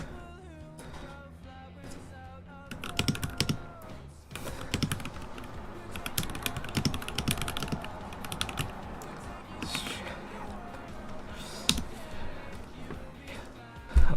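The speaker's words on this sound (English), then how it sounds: "I'm doing keyboard stuff" Rapid, uneven clacking of keys on an NK65 mechanical keyboard during a switch swap, bursts of typing with sharp individual strokes and brief pauses, close and fairly quiet.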